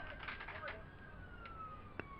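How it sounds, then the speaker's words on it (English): A police car siren wails faintly in the distance past a cricket ground on Saffron Lane, a thin rising and falling tone under light background noise with a brief sharp knock near the end. "Police car, I think that is, rather than an ambulance."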